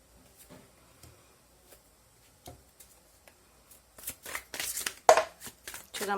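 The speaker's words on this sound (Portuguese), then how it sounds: "E agora, a gente vai começar a tirar as outras cartas." Tarot cards handled and drawn, faint scattered ticks and flicks at first, then a cluster of louder close rustles, slaps and shuffles toward the end.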